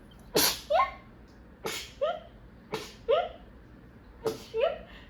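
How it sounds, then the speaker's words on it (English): Four sneezes in a row at a quiet, close level, each a sharp burst followed by a short voiced tail, with brief pauses between. "I'm gonna sneeze."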